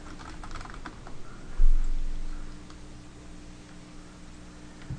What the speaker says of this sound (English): Why are you typing so fast?